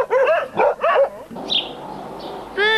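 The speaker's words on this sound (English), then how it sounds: "dogs bark" A dog barks a few times in quick bursts, close and fairly loud, with a brief high chirp in between.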